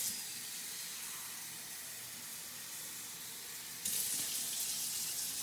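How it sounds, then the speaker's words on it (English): Water poured into a container while making buttermilk lassi with fresh mint, a steady close hiss of running water that swells louder near the end, with no talking. "I'm pouring some water in here"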